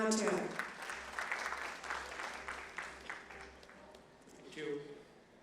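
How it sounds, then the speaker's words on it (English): Sustained clapping from an audience at an inaugural session of a Maharashtra FADA event, a steady crackling wash lasting several seconds, with a voice speaking briefly before it and again as it fades. "With a round of applause"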